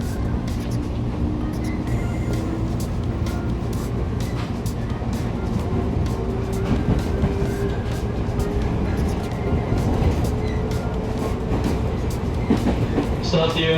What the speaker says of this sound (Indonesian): Dan di sini kereta berjalan mulai lambat, tandanya kita akan segera sampai di stasiun paling ujung timur ya.